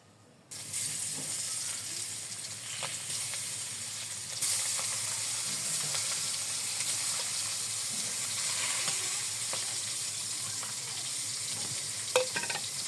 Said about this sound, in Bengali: এখন লবণ হলুদ মাখিয়ে তেলে ছেড়ে দিচ্ছি।